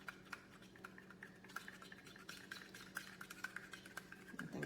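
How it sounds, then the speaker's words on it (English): A plastic spoon stirs oil stain remover paste in a container, giving soft repeated scraping and clicking strokes that sound steady and close but fairly quiet, with no talk. "use a plastic spoon or wooden spoon or spatula and stir thoroughly to mix the paste"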